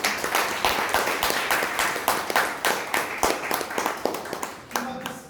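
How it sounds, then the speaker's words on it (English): Applause fills a Toastmasters club meeting room, a lively, continuous patter of many hands clapping with distinct sharp peaks. Voices murmur underneath, and the clapping thins out near the end. "A huge round of applause for all of you."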